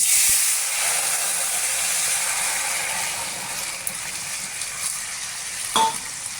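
Spices tempering in hot oil for lentil dal with jackfruit seeds, giving a soft steady sizzle and hiss with a faint clink near the end; close and moderately quiet, no talking.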